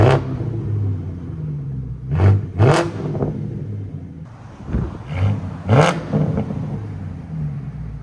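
A 2008 BMW 550i with a 4.8L V8 and X-pipe straight pipes idles with a deep rumble and is revved hard several times, each burst swelling loud and close before settling back.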